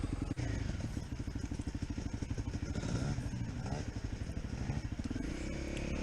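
Honda CRF dirt bike engine running continuously close by, a steady pulsing throttle drone with clattering and thumps from riding over rough ground.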